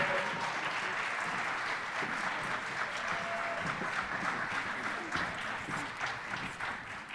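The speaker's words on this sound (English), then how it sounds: "will you please join me in recognizing our Durham Public Schools all-county students with a round of applause" Audience applause for all-county high school chorus students at a concert, a sustained round of clapping from a crowd in a hall, steady and moderately loud throughout.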